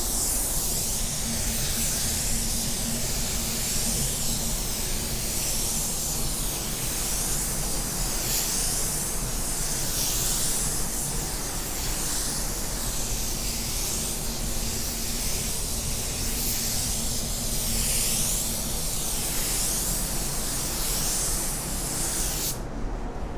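A paint spray gun lays paint onto a car panel with a steady, loud broadband hiss that pulses gently as the gun sweeps back and forth, continuous for over twenty seconds and stopping abruptly at the end.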